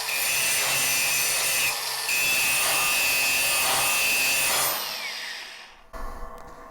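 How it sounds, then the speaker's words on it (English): A grinder does surface prep on the top of steel, a loud, steady abrasive rasp that runs for several seconds, then winds down and stops with a few faint clunks. "now you can just take the grinder and now you can do the surface prep on the top"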